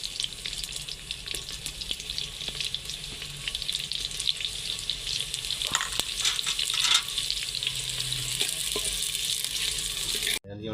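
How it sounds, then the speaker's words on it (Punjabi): Onions fry in ghee in a pan in a village kitchen, a steady sizzle with occasional stirring scrapes and clinks, fairly quiet and without talk, ending in a sudden cut. "ਘਿਓ ਸਾਡਾ ਹੋ ਗਿਆ ਮਾਸ਼ਾਅੱਲਾ ਤਿਆਰ। ਹਾਂਜੀ ਤੇ ਪਿਆਜ਼ ਪਾਣੇ ਨੇ। ਹੁਣ ਪਿਆਜ਼ ਪਾਓ ਇਹਦੇ ਵਿੱਚ।"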